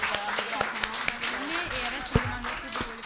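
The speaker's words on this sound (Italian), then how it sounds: "applauso Diletta" Audience applause at a book event, a burst of hand clapping with distinct individual claps, under and around people talking nearby.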